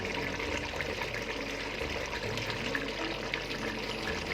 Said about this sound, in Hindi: 2 कप जो है वो मैं पानी के ऐड करूँगी शोरबा बनाने के लिए।